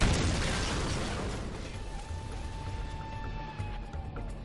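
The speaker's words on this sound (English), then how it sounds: "This is the bang you get from 200 pounds of explosives." A large blast from 200 pounds of explosives dropped by jet training aircraft, a loud broadband boom whose rumble decays over several seconds with faint tonal hum underneath.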